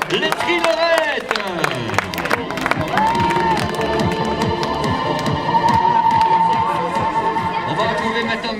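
Crowd applause and cheering with scattered claps and shouts, mixed with music and an announcer's voice talking over the noise.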